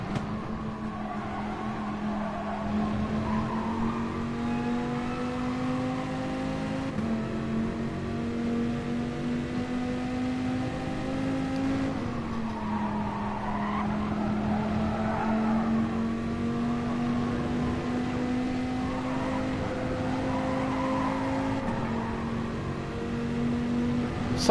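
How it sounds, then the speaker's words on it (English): Rear-wheel-drive Dodge Viper racing in Gran Turismo Sport, its engine droning steadily with rising pitch through each gear and dropping at every shift, continuous and fairly loud with no talk. "I'm driving a rear-wheel drive car now as opposed to a front-wheel drive car"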